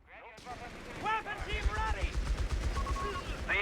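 Sustained MG42 machine gun fire from the WWII strategy game Company of Heroes 3, dense overlapping bursts and battle noise beneath a commentator's running speech.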